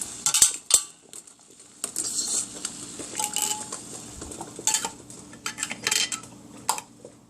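Metal rings and lids being screwed onto glass canning jars of beef, with scattered clinks, scrapes and ratcheting twists at close range, in irregular bursts with quiet gaps between.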